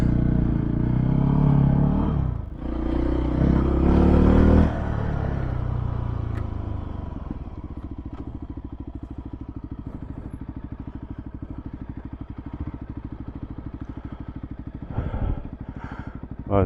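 A Voge 300 Rally motorcycle ridden off-road gives a loud, steady engine drone with some rougher revving early on, then settles into an even, continuous putter close to the microphone.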